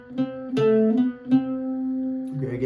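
Irish bouzouki plays a short phrase of the jig The Hag At The Churn, with plucked notes in groups over ringing sustained strings, close and moderately loud, and no talk over it.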